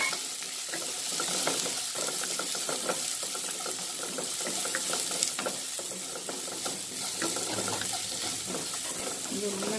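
Mustard seeds crackling and spluttering in hot oil while making rava upma, a dense, loud, close sizzle with rapid popping and stirring scrapes running steadily throughout.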